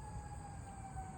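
An emergency vehicle siren wails faintly outside, a sustained, steady tone in the distance over low background rumble, with no talking.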